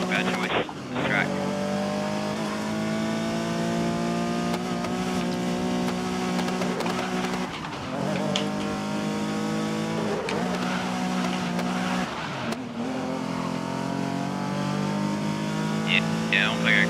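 A Ferrari race car engine in the racing game Grid on Stadia, a sustained close engine roar rising and falling through gear changes and corners, with a person talking over it.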